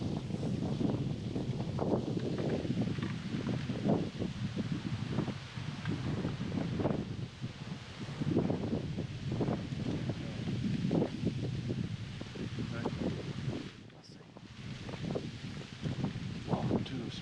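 Autumn leaves rustling in wind gusting around 21 mph in Montana hunting country, a constant close rush and crackle with buffeting bursts that swell and fade throughout.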